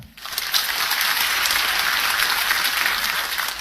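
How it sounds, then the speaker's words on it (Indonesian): An audience breaks into dense applause, a steady roar of many hands clapping at once, loud and sustained without talk over it. "Boleh tepuk tangan."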